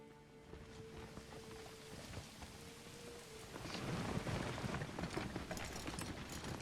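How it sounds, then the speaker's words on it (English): Steady rain hiss from the medieval city-building game Manor Lords, growing noticeably heavier and denser partway through, with a faint low rumble beneath and no talking. "And it's raining too."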